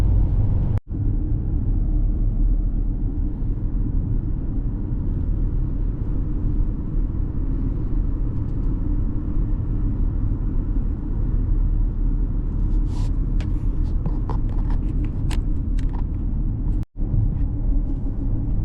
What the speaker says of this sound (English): Now driving in toward Reevesville, South Carolina.